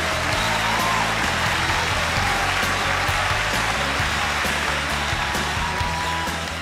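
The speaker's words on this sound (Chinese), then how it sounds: "来，掌声有请。" An audience breaks into steady applause for contestants walking onto a TV job-interview show stage, a continuous clapping wash that fills the hall.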